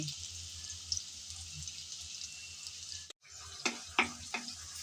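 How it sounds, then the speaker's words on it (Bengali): Chopped onions hit hot oil in a pan and give a steady close hiss, then a short break before several spatula clinks and scrapes. "গরম তেলে দিয়ে দিলাম পরিমাণ মতো পেঁয়াজ কুচি"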